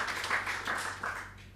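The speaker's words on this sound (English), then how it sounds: "Give the Lord a clap offering for our musicians, singers, and dancers." A church congregation claps in praise for the Lord, a brief burst of many hands patting together, moderately loud and fading slightly toward the end.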